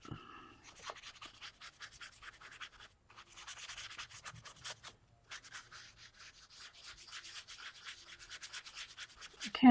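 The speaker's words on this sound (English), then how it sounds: "I'm just cleaning that paint out of my brush so I can get more, you know, clean color here" A paintbrush is scrubbed back and forth to clean out paint while coloring a peacock poster, giving repeated close, dry scratchy rubbing strokes in bursts with brief pauses.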